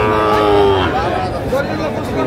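A young Sahiwal bull calf at a cattle market moos in drawn-out low calls amid loud crowd chatter and bargaining voices.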